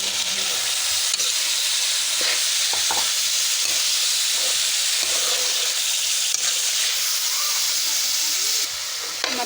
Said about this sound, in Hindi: इसमें हमने मसाला अच्छे से भून के और उसमें कंडोली ऐड कर दी है और इसको 1 से 2 मिनट तक के भूनेंगे